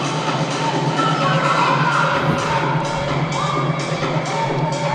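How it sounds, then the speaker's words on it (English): A stadium crowd at a Tufts Jumbos versus Trinity Bantams college volleyball match roars and cheers continuously, dense and loud, with scattered shouts and swells rising out of the steady noise. "Both the Bantam crowd and the Jumbo crowd has been loud all day."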